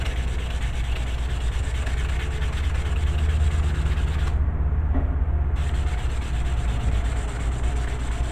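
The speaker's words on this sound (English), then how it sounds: "Take a little sandpaper here and just kind of get the grime off the back of it so it slides better." Sandpaper rubs grime off the back of a lidded, stemmed wooden piece in steady, continuous scraping strokes, close and fairly loud, with no talk.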